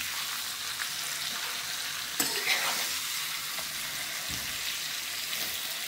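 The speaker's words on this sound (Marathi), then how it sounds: "आता आपण हे चमच्याने मिक्स करून घेऊया." Potato slices stirred with a spoon in a hot pan, a steady bright sizzle of frying throughout with occasional scraping and a soft knock of the spoon, no voices.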